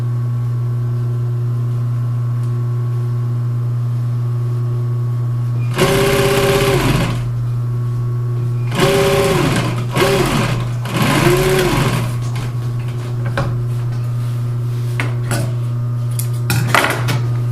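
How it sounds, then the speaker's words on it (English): A sewing machine stitches welt cord for a wing chair reupholstery job, running in three short loud bursts with brief pauses, followed by lighter handling clicks and taps nearby. "Same procedure we use in sewing welt cord together."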